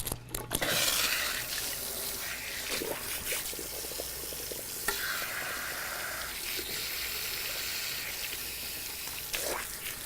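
Cool water runs and trickles steadily from a tap over hair during a hair rinse, with soft splashing and drips at moderate volume and no speech.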